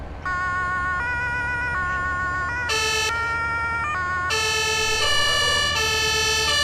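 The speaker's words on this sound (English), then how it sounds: "The tree didn't hear my siren." An emergency vehicle siren in Farming Simulator 22 wails loud and continuous, switching between several tonal patterns over a low engine rumble, with no talk.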